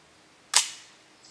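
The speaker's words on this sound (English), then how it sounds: "when you pull the trigger, it's going to decock it" An M44 rifle's trigger is pulled to decock the bolt, giving a single sharp metallic click that fades quickly, close and isolated against a quiet background.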